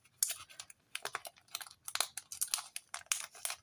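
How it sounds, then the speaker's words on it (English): A paper cash envelope being opened and handled, giving a close, quiet run of rapid rustling and crinkling bursts with brief pauses throughout. "I can open the envelope."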